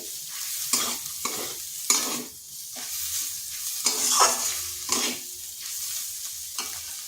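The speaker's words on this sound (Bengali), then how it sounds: "ডিমটা খুব বেশি ভাজার দরকার নেই কারণ বেশি ভাজলে ডিমটা শক্ত হয়ে যাবে" Eggs sizzle steadily in a hot pan for a lentil and egg curry, broken by repeated scraping stirs of a spatula, each stroke a short rasp over the continuous frying hiss, close up with no talk.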